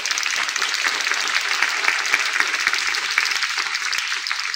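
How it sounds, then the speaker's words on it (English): An audience at a regional civics bee competition in Eastern Kentucky breaks into sustained applause, a dense, even patter of many hands clapping throughout with no break. "Let's give these folks a round of applause."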